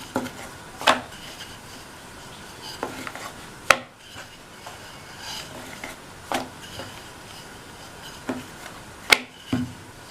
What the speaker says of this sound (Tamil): இந்த மாதிரி தட்டி விட்டுட்டு மறுபடியும் கொஞ்சம் மாவு தூவிட்டு தேய்ச்சிடலாம்